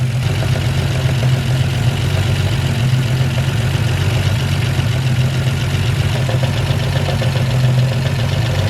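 A Toyota Supra engine idles steadily nearby with a low, even hum and a faint repetitive ticking noise underneath, with no talk.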